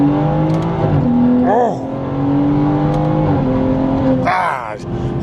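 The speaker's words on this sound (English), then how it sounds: "Then I want you guys to sort of see what does a second to third shift sort of look like." A tuned BMW xHP accelerates hard and shifts from second to third gear, its loud, steady engine tone dipping briefly at the shift before climbing again, heard from inside the car with a short voice over it.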